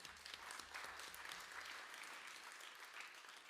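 Audience applause at a memorial symposium, a steady wash of many hands clapping that fills the whole moment at moderate volume with no voices on top.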